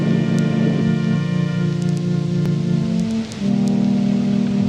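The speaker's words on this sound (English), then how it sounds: "It's still raining." Steady rain patter sits under a sustained low droning tone, with a few sharp clicks scattered over the continuous wash of falling drops.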